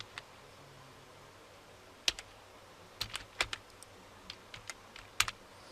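Typing on a computer keyboard while filling in a Google Sheet, scattered crisp key clicks in short irregular bursts, close and clear over a quiet room with no talk.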